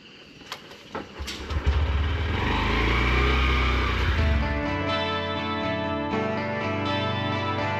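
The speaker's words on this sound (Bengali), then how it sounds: "তো হেলমেট পরে রেডি, আর আমাদের বাইকও রেডি। চলো বেরিয়ে পড়ি।" A motorbike starts and pulls away on an empty road before dawn, its engine rising from a low rumble into a steady, close, loud drone that holds to the end, with no one talking.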